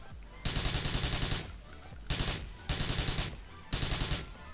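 Automatic gunfire in the video game GTA Vice City: four loud, rapid bursts of shots separated by short pauses.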